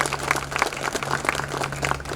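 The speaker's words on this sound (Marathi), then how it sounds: "तुमच्यासाठी तुम्ही जोरदार एकदा टाळ्या वाजवा" A school audience applauds together in a steady, dense patter of many hands lasting about two seconds, with a low electrical hum running underneath.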